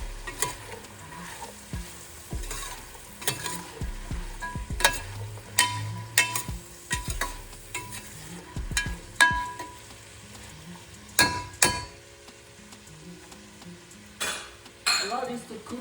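Chicken potato soup stirred in a pot gives repeated scraping and knocking of a spoon against the pot in uneven bursts, over a low simmering background, close and fairly loud.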